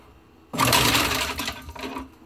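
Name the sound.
garbage disposal running after reset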